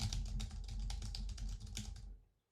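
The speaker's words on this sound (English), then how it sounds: "listening to the sounds of your keyboard keystrokes over Zoom" Rapid keystrokes on a computer keyboard, a quick dense run of crisp clicks at close range that stops abruptly after about two seconds.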